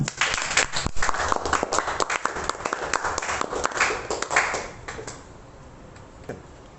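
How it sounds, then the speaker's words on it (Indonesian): Classmates clapping in a school classroom, a short burst of scattered applause that stops partway through and leaves a quieter room with a few faint knocks. "Ayo, tepuk tangannya teman-teman"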